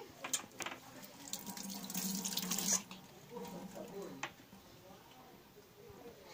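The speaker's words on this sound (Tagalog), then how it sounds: "ngayon ay maghuhugas tayo ng Atomy Hand Soap" Hands are washed with Atomy hand soap under a running tap, a close, steady splash and gurgle of water into a sink with a brief louder rush midway, while people talk quietly nearby.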